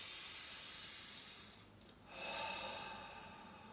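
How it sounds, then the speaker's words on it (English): A person draws in a long, deep breath through the airways, audible as a soft airy rush that briefly pauses and then swells again. The breath is quiet and close, with no talking. "So breathe in."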